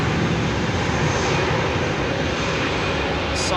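Steady, loud aircraft engine roar at London Heathrow Airport, a dense unbroken rumble lasting a few seconds with no clear rise or fall.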